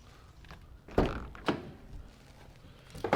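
The rear cargo door of a Citroen Relay 2.2 HDi 35 Enterprise L3H2 panel van is worked open, giving two solid metallic thunks a moment apart and a further clunk at the end, with quiet room noise between.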